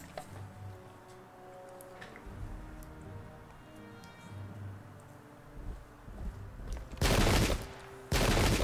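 Musket volleys crackle in the Pike and Shot battle video game: quiet battlefield ambience at first, then two loud, sustained bursts of massed gunfire near the end.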